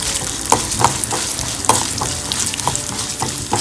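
Chana dal and urad dal roast in oil over a low flame for a Thaalagam, sizzling steadily while a spoon scrapes and stirs the pan in irregular clinks.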